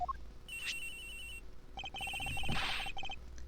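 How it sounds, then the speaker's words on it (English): A cell phone rings from inside a locker in the video game Ace Attorney Investigations: repeated electronic ringtone bursts of bright beeping tones with short pauses between phrases, clear and steady, no talking over it. "The ring is coming from in here, sir."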